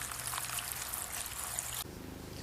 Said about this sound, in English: Just pop it in a bucket and add approximately 3 litres of water.